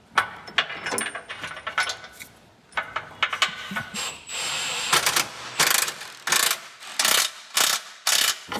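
A ratchet tightens a bolt during installation of a 2.5-inch lift kit on a 2023-24 Honda Pilot. Several close bursts of rapid clicking are separated by short pauses, with faint scraping in between.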